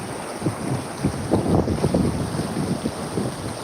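Floodwater rushing along a river in a village after heavy rain, a loud, steady turbulent roar of flowing water with gusty wind buffeting the microphone.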